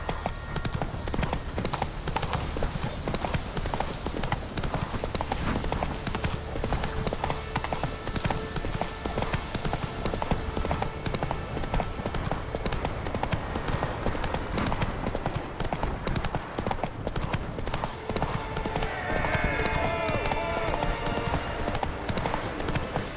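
Roach, a horse in The Witcher 3: Wild Hunt, gallops with steady, rapid hoofbeat clip-clops throughout, loud and continuous against a busy game soundscape, with a brief faint whinny and little speech.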